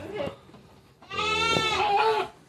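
Goats on a meat-goat breeding farm bleat in a loud, wavering cry lasting over a second, after a shorter call, with someone talking nearby.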